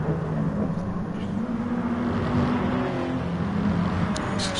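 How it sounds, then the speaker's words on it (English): Steady engine drone from a Honda NSX race car in a racing video game, a sustained mid-pitched tone that shifts slightly as it holds, loud and continuous throughout with no speech over it. "I do love the noise the NSX makes"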